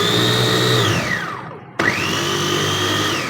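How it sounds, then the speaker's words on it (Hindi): A kitchen mixer grinder whirs loudly while grinding grated fresh coconut. It winds down to a brief stop, then starts again abruptly and spins back up to a steady, close, high-pitched whine. "मिक्सी में डाल दिया है और अब हम इसे बहुत ज़्यादा नहीं चलाएंगे, इसलिए चलाएंगे कि थोड़ा बारीक हो जाए"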